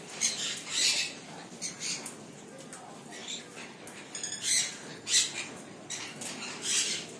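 Blue-and-gold macaws in an aviary give harsh, repeated squawks in short bursts, some louder than others, spread across the stretch with steady background noise and no clear talk.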